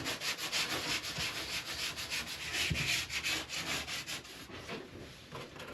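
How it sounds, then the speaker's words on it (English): Sandpaper rubs back and forth along the edges of an abandoned sailboat being refitted, roughing them up for epoxy. The close, steady scratching comes in quick repeated strokes with no talking. "Giving the edges a little rough up so the glue,"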